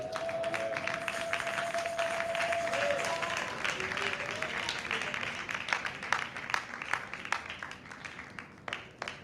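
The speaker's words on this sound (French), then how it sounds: "Acclamons pour la gloire de Dieu" A congregation at an evangelical church service claps and cheers together in sustained, dense applause that fills the room, with a held keyboard tone early on and a few voices mixed in.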